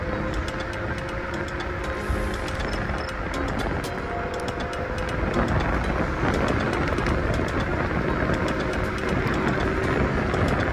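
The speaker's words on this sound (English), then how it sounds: "right now I put the electric scooter on mode 3 or speed 3" A Kugoo Kirin M4 Pro electric scooter ridden at speed setting 3 gives a steady, loud rushing drone of motor and wind roar with rolling road rumble, continuous throughout without pause.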